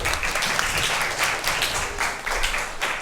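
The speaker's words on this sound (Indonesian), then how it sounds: "Tepuk tangan dong buat Aul." Students in a classroom clap for a classmate, a brisk, dense burst of applause that stays steady for a few seconds with no voices over it.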